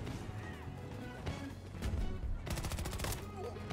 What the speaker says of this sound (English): Oh my god, the shotguns